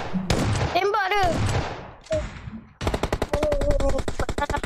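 Gunfire erupts in a rapid automatic burst during a chase scene in a Malay detective drama, following shouted voices and a brief siren-like wail, the rattling shots close and loud.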